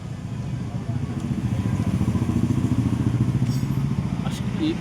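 A small petrol engine on an agricultural spray machine runs with a steady, close, loud chugging throb, its rapid regular pulses continuing throughout.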